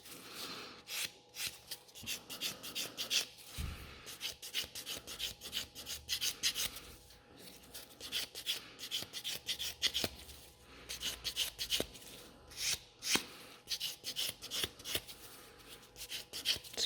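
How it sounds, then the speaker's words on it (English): Nail buffer scratching across fiber gel nails in quick, dry rasping strokes, a steady run of close, soft scrapes repeating with short pauses, no talking. "Grab the buffer and just give it a couple scratches to it."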